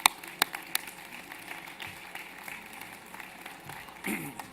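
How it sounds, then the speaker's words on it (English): Applause at a press announcement event opens with a few sharp, close claps, then settles into a softer, diffuse patter of clapping and room noise that swells slightly near the end. "Ladies and gentlemen, please join me in a big applause for Mark Bamforth from Brammer Bio."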